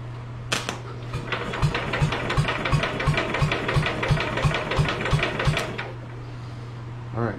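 A small engine cranked by its starter for a compression test, a rapid, even series of chugging compression pulses lasting about five seconds before stopping, close and alone.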